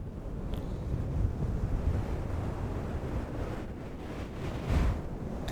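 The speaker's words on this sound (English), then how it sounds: "Creates a brushing sound that almost sounds like waves lapping on a beach." A microfiber glasses-cleaning cloth brushes around a microphone, making a close, steady, soft rushing swish that ebbs and swells like surf, with no talking.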